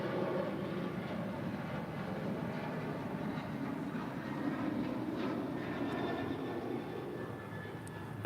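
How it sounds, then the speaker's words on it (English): A United Boeing 737-900ER departs Houston Intercontinental, a steady broad jet roar that holds evenly throughout at moderate distance, with no voices. "That was United 2140 departing the Houston Intercontinental on a 737-900ER"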